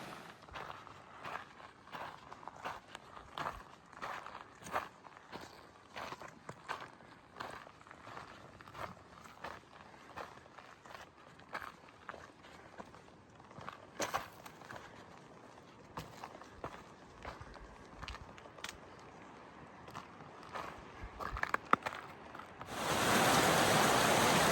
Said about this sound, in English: This is Wallace Creek that we're crossing